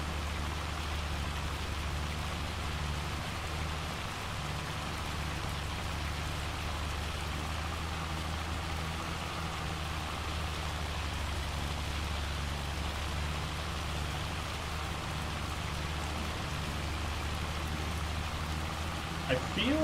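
Rain and hail fall in the video game Farming Simulator 25, a steady dense hiss and patter with a low rumble underneath, even and unbroken throughout.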